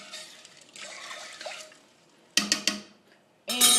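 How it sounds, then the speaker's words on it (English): Cinnamon red hot candies melting in a pot while being stirred, with soft liquid swirling and scraping, then a few sharp knocks of the spoon against the pot and a louder clatter near the end. "So I'm just going to stir to make sure everything gets melted."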